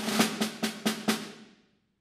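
Quiet snare drum strokes played pianissimo, five evenly spaced soft hits with a short roll feel, decaying into silence after the last stroke, close and alone with no voices.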